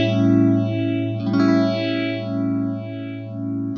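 Phaser pedal driven into self-oscillating feedback, its resonant sweep rising and falling in slow repeating arcs that sound like bird-like chirps and whistles over a steady loud drone, with a brief spiky burst partway through.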